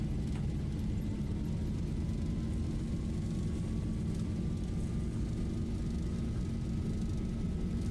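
Simulated airliner jet engines spooling at takeoff thrust on the runway in the Zibo mod 737 flight simulator, a steady, loud low rumble with a thin rising whine, continuous and even throughout.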